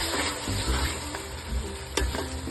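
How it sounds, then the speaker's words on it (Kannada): Fenugreek leaves frying in a pan with freshly ground masala, a steady close sizzle with soft crackles and a brief sharper spike near the end. "ಈಗ ನೋಡಿ ಅದು ಮೆಂತ್ಯ ಸೊಪ್ಪು ಫ್ರೈ ಆಗ್ತಾ ಇದೆ."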